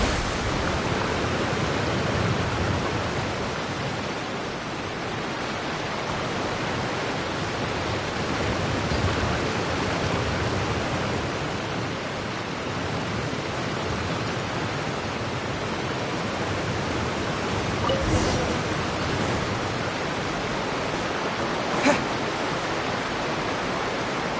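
A water jet attack in Genshin Impact gushes as a steady, loud hiss of spraying water that runs unbroken from start to finish, with a couple of faint brief clicks near the end.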